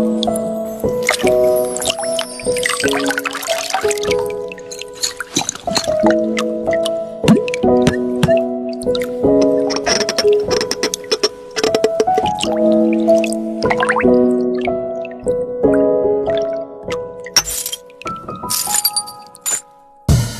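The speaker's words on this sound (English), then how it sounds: "It takes a bottle, a bit of water, and a rock for this sound artist to creatively redesign the sound effects of an anime scene." Foley effects made with a bottle, water and a rock: a busy sequence of close, clear drips, clinks and hollow pitched glassy tones, with liquid squishes and sharp taps, some in rhythmic runs, no talking.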